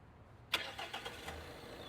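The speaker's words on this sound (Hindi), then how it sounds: "Start the engine." A Tata Sierra diesel engine cranks and fires up abruptly after a quiet moment, then settles into a rough idle with a few pulsing surges, heard up close.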